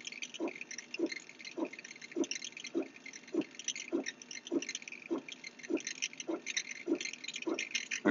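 A K40 laser cutter burns into acrylic with a steady, evenly spaced pulsing of soft ticks, roughly two per second, over a faint continuous hiss from the machine.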